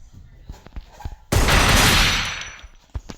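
A video game gun fires at an opponent for a headshot: one loud, close, sustained burst of rapid gunfire lasting over a second. Light clicks and taps come before and after it.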